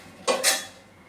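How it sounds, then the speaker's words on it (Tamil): A lid goes onto a cooking pot of Bengali chicken curry with a quick double metallic clink, close and brief, followed by quiet. "இப்போ இதை மூடி போட்டுருவோம்."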